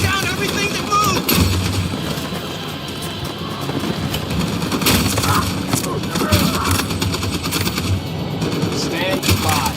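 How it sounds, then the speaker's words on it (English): Video game battlefield with a machine gun firing amid dense, continuous combat noise, rapid bursts layered over explosions and rumble, loud and unbroken throughout. "That machine gun is taking down everything that moves!"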